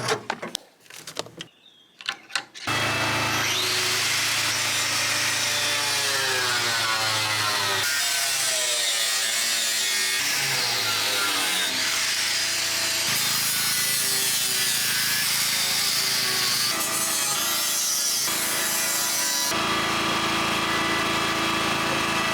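Power saw cutting through the steel wall of a 20ft shipping container to open a hole, a loud continuous grinding rasp with shifting pitch that runs steadily for about twenty seconds after a brief quiet start.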